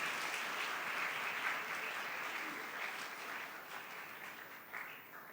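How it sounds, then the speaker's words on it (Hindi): A church congregation applauds for mothers during a Sunday homily, steady dense clapping filling the hall at moderate distance and slowly tapering off toward the end. "एक बार फिर माँओं के लिए भरपूर तालियां होनी चाहिए।"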